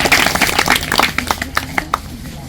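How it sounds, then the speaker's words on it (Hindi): An audience claps at an outdoor forest education event, with a dense burst of hand claps that thins into a few scattered, sharp claps before stopping. "तालियां बजाए में सब लोग"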